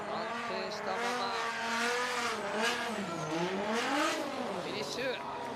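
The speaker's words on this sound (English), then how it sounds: "You can hear that V6 trumpet sound, but it's the VR38 from a GTR." A Nissan VR38 twin-turbo V6 drift car engine revs and wails under load at a D1GP drift event, pitch rising and falling, with faint tire squeal mixed in.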